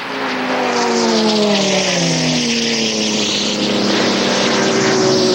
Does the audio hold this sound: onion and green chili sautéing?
no